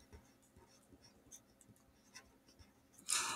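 Pen or pencil scratches out a math function by hand on paper in a quiet room, faint and close, in small irregular strokes, ending with a louder brief rustle.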